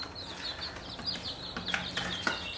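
Baby junglefowl chicks give repeated high, thin peeps close by over a steady background hiss, with the chirps coming in a quick, uneven stream.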